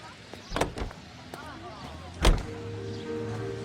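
Getting into a car in L.A. Noire brings a couple of sharp door clunks and shuffling, then a low idling engine hum, with voices talking over it.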